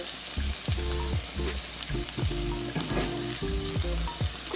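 A curry and rice mixture fries in a pan with a steady sizzle, broken by repeated scraping and stirring strokes in an uneven rhythm, heard close up with no talking.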